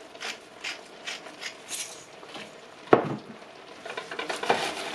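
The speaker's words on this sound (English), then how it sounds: "It's got a little bit of a simmer going" Mac and cheese simmering in a pan on medium-low heat: soft bubbling and stirring, with occasional scrapes and clinks of a utensil against the pan, one sharp knock midway, fairly quiet and close, no talking.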